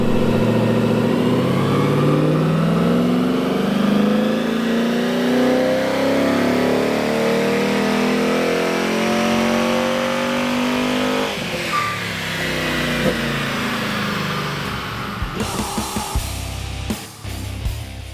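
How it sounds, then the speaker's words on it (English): A Ford Falcon V8 on a dyno during a power run, the engine revving hard and climbing steadily in pitch for several seconds before backing off to a rough, lumpy idle with a few blips, loud and close. "it's time to head back to Castle Hill so the boys can put it on the dyno and give it the final tickle"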